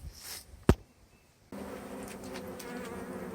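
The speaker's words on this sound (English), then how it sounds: "But we will take these bees now, since they've been out here so long." A steady buzzing hum of many insects fills the air, with a brief sharp knock early on; no voices.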